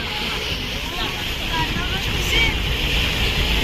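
Big ocean waves churn and wash in strong wind by a foggy, rainy Mumbai shoreline, with heavy wind buffeting and a steady surf rush throughout.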